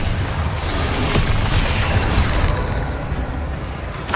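A Bombarda explosion spell in Hogwarts Legacy erupts in a loud, dense roar of rumbling blasts and debris, sustained for several seconds before easing slightly at the end.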